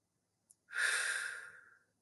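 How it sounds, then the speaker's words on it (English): One slow, audible exhale during a calm breathing exercise in an online class, a soft breathy rush lasting about a second that fades out, preceded by a tiny click, with no talking. "We're going to practice some breathing like we've done in the past"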